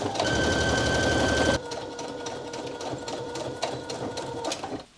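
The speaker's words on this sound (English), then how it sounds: "we're just going to sew close to this bottom edge to secure the facing of the pocket" Close by, a sewing machine stitches near the bottom edge of a pocket facing on trousers, running fast and steady, then slowing into a lighter, uneven rhythm before halting.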